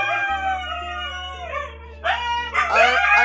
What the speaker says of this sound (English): my dogs are about to make a colossal noise